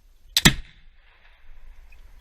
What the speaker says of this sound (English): we're going to fire the gun with the front trigger